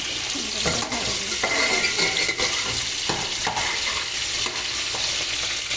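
Fish frying in oil in a wok, a loud, dense, continuous sizzle close up with faint scraping and stirring sounds scattered through it.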